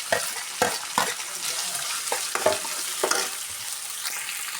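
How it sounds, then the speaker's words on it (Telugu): Ajwain leaves, green chilies and curry leaves fry in a pan for masala dosa filling, with a steady close sizzle and several sharp scraping stirs of a spoon, and no talking. "వేసేసి ఇలా ఫ్రై చేసేసుకొని తర్వాత పచ్చిమిర్చి అండ్ కరివేపాకు కూడా వేసేసుకోవాలి"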